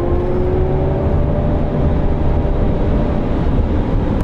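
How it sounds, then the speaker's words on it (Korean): A Cadillac Lyriq electric car plays its synthetic engine sound under acceleration, a smooth humming tone that rises gradually in pitch over a steady, loud layer of road and tyre rumble. "가상 엔진 사운드가 듣기가 좋은 음색입니다"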